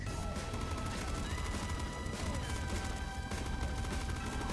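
Rapid, dense gunfire from the pop gun in the video game Nuclear Throne, a constant stream of bullet pops with crunchy hits and explosions, loud and unbroken with no talking.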